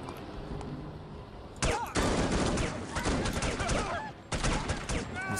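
Gunfire in the spy shooter game No One Lives Forever breaks out in two loud, sustained bursts of rapid automatic shots with a brief gap between them, following a quieter stretch.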